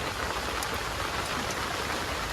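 Heavy rain falls on a village hut during the monsoon, a constant broad wash of noise with occasional distinct drips, no voices.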